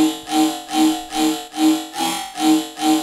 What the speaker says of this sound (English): this rhythm pattern that I chopped up